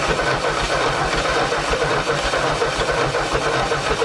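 An old Ford 8N tractor engine runs on its own, a loud, steady, rough chugging that keeps an even pulse throughout with no talking.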